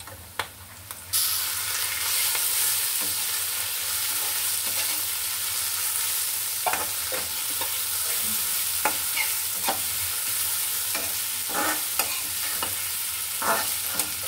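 Water spinach (kalmi shak) stir-fried with fried onions and green chillies in a pan: a loud continuous sizzle with scattered spoon scrapes and clinks throughout, no talking.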